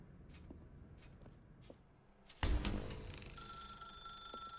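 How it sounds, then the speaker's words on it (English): Telephone ringing in The Stanley Parable: Ultra Deluxe video game, a sharp ring starting partway through and continuing steadily after quiet ambient tones, with no talk. "Now pick up the phone,"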